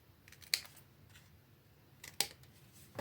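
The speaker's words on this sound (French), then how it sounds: "On va découper les petits morceaux." Scissors cut small pieces of paper for a child's scrapbook album, giving two sharp, close snips about one and a half seconds apart over a quiet background.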